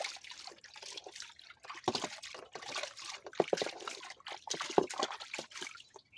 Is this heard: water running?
yes